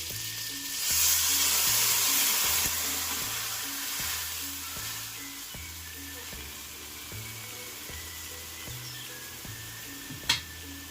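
Mustard paste goes into teasel gourd frying in a pan, setting off a steady, close sizzle that swells early and then settles into a continuous hiss, with a faint clink near the end.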